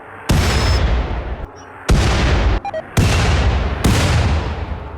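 Rocket fire from a centipede mech in RimWorld, four loud close blasts each followed by a rumbling decay, spaced roughly a second apart.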